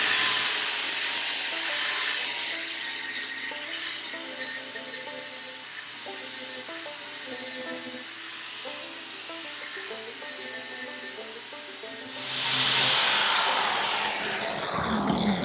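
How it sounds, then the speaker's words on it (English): A flap wheel on a belt grinder smooths a steel weld flat, giving a steady, close, high grinding whine for about twelve seconds before it shifts and winds down. "I've got my flap wheel over here. We're going to go ahead and just smooth this out so that it sits flat on the platen."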